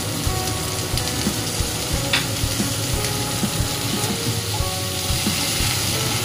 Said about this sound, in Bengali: এটা এখন একটুখানি হাই ফ্লেমে এই 4 থেকে 5 মিনিট একটু জাস্ট একটু নেড়ে চেড়ে নেব